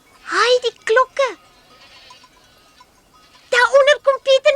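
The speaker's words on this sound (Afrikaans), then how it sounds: "Daaronder kom Pieter met die bokke aan." Goats bleating in a herd in a cartoon mountain pasture, several loud wavering calls in two bursts separated by a quiet gap.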